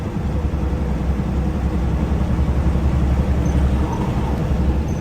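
A truck engine with a fuel-related fault runs roughly, giving a steady, loud low rumble with broadband road and engine noise throughout, no voices.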